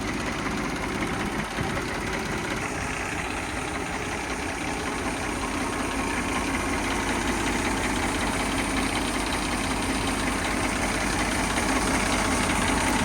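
An Eicher 333 tractor engine idles steadily, a continuous rough diesel rumble with faint knocking and vibration, close and unbroken throughout.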